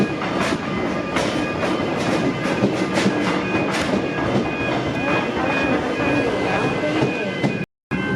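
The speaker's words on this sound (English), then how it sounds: "Commons train departing Mordialloc on the down Frankston service." A Comeng electric suburban train pulls out of Mordialloc station on the Frankston line, its steady rolling roar filled with rhythmic wheel clicks over rail joints, loud and close throughout.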